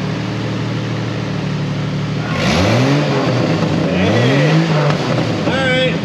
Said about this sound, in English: Hey Troy, give me some RPM action up there.